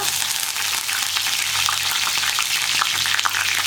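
Curry leaves frying in sesame oil with mustard seeds for a beetroot pickle, a steady loud sizzle and crackle throughout with small pops, no talk.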